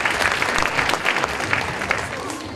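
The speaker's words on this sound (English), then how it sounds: "let's give them one more round of applause" A school audience at an elementary school celebration applauds loudly and steadily, a dense wash of clapping hands that fills the whole stretch, with faint voices mixed in.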